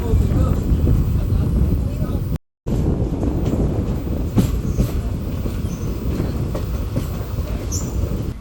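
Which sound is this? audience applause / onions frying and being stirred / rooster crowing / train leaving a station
train leaving a station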